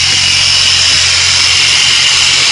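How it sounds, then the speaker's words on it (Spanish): A repaired tire inflator air compressor with a new O-ring runs continuously, a loud, steady buzzing drone held close with no pauses and no talking. "aquí tengo ya el compresor que le cambié el O-ring. Entonces vamos a proceder a enchufarlo."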